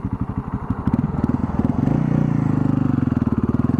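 Husqvarna TR650 motorcycle engine running close by, a steady, loud thumping idle that rises a little in pitch and intensity partway through, with no voices.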